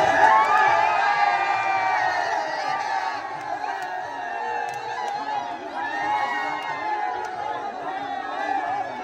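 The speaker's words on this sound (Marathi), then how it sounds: "पोचलोय आपण आता आईच्या मंदिराजवळ आणि गर्दी बघू शकता तुम्ही." A large crowd gathers at the Ekvira temple for the palanquin festival, with continuous shouting, cheering and chatter rising and falling in waves around the listener.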